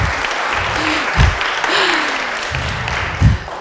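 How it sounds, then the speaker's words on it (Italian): Audience applause at a lively science outreach show during OpenDIAG 2019, a steady wash of clapping with a few louder low thumps and brief whistles mixed in. "Un applauso sulla fiducia."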